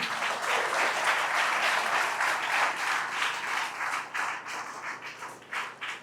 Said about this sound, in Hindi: ज़ोरदार तालियों से उनका वेलकम करते हैं